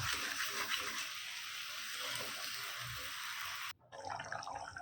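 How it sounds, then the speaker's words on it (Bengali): Water poured into a pot of chicken liver and potato curry gives a steady rushing splash that cuts off abruptly, followed by a quieter bubbling. "এরপরে আমরা এতে অ্যাড করে দেবো অল্প একটু জল"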